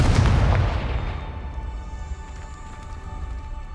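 A Confringo spell explosion in the video game Hogwarts Legacy sets off a single loud, deep boom that rumbles and slowly fades into a low, lingering roar.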